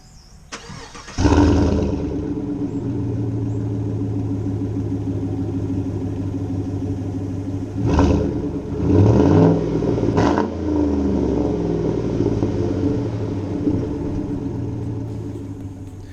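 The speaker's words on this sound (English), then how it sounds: "It's time for the first start of the new Corsa Catback exhaust system." A 2014-or-later Chevrolet Silverado or GMC Sierra pickup cranks and catches with a loud, deep burbling idle from a new Corsa catback exhaust, then gets a few sharp revs before settling back to a rumble.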